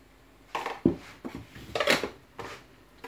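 A teaspoon stirring baking soda into sour milk in a bowl, several close clinks and scrapes of metal against the dish in an irregular rhythm.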